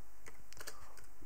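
Quick touch typing on a computer keyboard, a short burst of crisp, close key clicks in an irregular rhythm with no talking.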